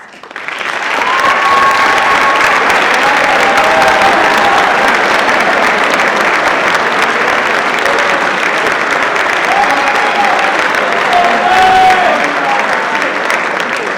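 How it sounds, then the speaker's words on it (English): Sustained applause from a large crowd, dense steady clapping with a few voices calling out over it, lasting the whole stretch at even volume. "please rise for a round of applause"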